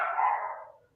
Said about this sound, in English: my dog just like going off because the garbage people are outside